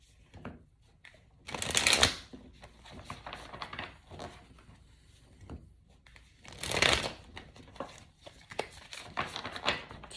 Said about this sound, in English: The shuffling is crucial, y'all.